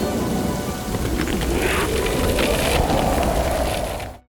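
Heavy rain pours steadily with a low rumble of thunder rolling underneath. The dense, loud wash of the storm carries on without a break, then cuts off at the end.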